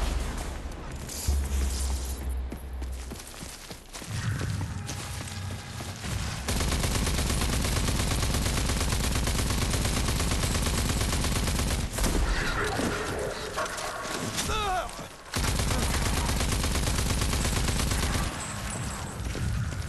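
Heavy rapid gunfire from the shooter Rage 2, long dense automatic bursts with booming impacts, loud and close, broken by a couple of short gaps.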